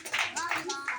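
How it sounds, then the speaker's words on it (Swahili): Several quick bursts of hand clapping for the Professor, uneven and close, mixed with lively voices. "Wapi makofi ya Profesa?"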